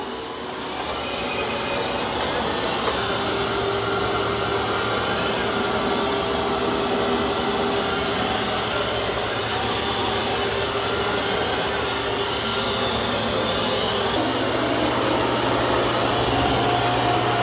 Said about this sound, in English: Doing a good job on that carpet. Auto lifting its mop pads and vacuuming.